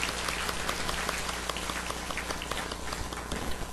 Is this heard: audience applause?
yes